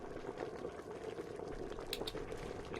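Food boils on a stove in the video game Shut In, a steady soft bubbling and seething hiss that carries on evenly without a break, faint and with no voices.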